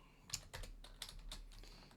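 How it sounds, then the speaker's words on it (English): Quiet typing on a computer keyboard, a handful of soft quick keystrokes in an uneven rhythm, close and faint, no talking. "You declare it that way"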